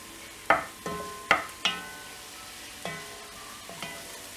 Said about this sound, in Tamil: இந்த மசாலாலாம் நல்லா எண்ணெயில் ஃப்ரை ஆகணும்.